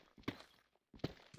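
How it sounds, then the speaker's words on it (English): Footsteps of zombies in Minecraft, a few soft thudding steps in two short clusters, faint and close, with no talking. "I hear footsteps. It's zombies."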